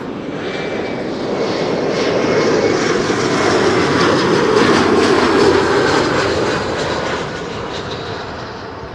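KLM airliner arriving on the Kaagbaan runway at Schiphol Airport, a loud, sustained engine roar that swells toward the middle and eases slightly as it passes.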